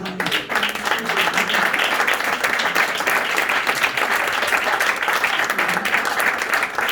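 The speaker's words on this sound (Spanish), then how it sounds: "Un aplauso para Ricardo" A crowd applauds Ricardo Mendoza: loud, sustained clapping from many hands, dense and even throughout, with a few voices faintly mixed in.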